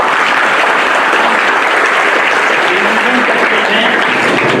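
Loud, dense applause from an audience at a book launch held in an ashram hall, a continuous roar of clapping close and steady throughout.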